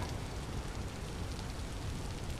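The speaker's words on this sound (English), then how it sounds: "And the rain is mighty loud." Steady rain in the survival game Vintage Story, a dense continuous hiss of falling drops that stays loud and even throughout, with no talk.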